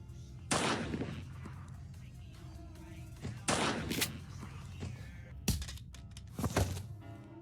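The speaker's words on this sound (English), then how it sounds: "the shotgun being fired" Four booming shotgun blasts from a video game, Granny, spaced a couple of seconds apart, each sharp and loud with a short decay, over a quiet background.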